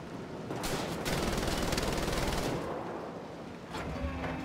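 Turret-mounted machine gun in Wolfenstein: The Old Blood firing a rapid sustained burst of gunfire lasting about two seconds, followed by quieter rumbling and a brief mechanical tone.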